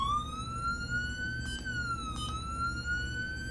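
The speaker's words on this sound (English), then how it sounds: "I have it hooked up to the whale input of the Siren." Siren whale tone from an SS651 amplifier, driven by a programmable switchbox: a loud electronic wail that slowly glides up and dips back down, sustained and close.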